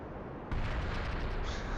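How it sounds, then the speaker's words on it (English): A rocket exploding in Kerbal Space Program: a low rumble suddenly gives way to a loud, broad blast that keeps roaring at full strength for over a second. "See if it explodes and hits the ground."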